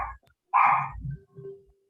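A dog barks indoors, giving one loud, near bark followed by a softer whimpering tail, with a short faint sound just before it.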